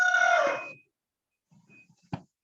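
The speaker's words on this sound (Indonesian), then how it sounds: "Itu ayam siapa?" A rooster crows once, loud and close, in a drawn-out call under a second long, followed by faint low rustling and a short sharp knock.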